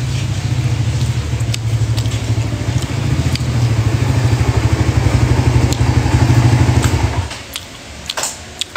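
A motorcycle engine runs close by with a steady, rapid pulsing drone that holds loud for several seconds, then drops away abruptly near the end.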